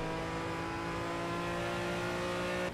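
Aston Martin V12 GT3 race car in a racing video game, its engine holding a steady, loud, sustained drone with a bright harmonic whine and no pauses.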